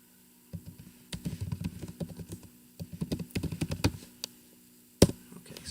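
Close, quiet keystrokes on a computer keyboard come in quick irregular bursts of clicks with short pauses, ending on a firmer tap, with no talking.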